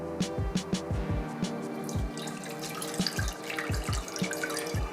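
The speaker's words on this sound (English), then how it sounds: "we'll measure the water that we need for this recipe" Water runs from a kitchen tap to be measured for homemade Italian-style pizza dough, a steady splashing stream broken by irregular drips and plops close by, with no talking.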